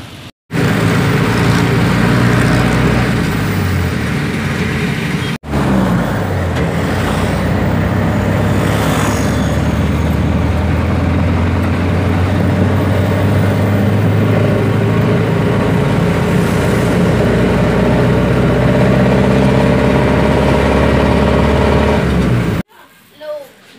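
Steady roadside traffic hums along a street where someone waits for a jeep, with vehicles passing close and loud in a continuous rumble.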